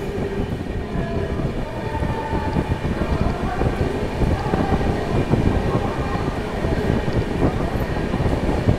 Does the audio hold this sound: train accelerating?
yes